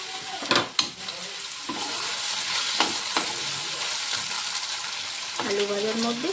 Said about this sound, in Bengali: কাটা আলুগুলো এবার তেলের মধ্যে ছেড়ে দিই